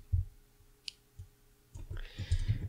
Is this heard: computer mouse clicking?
yes